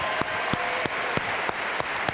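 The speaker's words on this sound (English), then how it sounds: "Let's give a round of applause to Dana." Audience applause for Dana at a large Walmart associate meeting, dense sustained clapping from a big crowd with a few sharper accents, loud and continuous.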